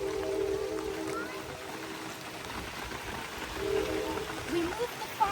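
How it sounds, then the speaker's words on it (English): Steady, soft rain patters on camping gear and a pop-up tent at a primitive rainy campsite, a faint continuous hiss with scattered drips and no talking. "So we are just getting rain on for last few hours."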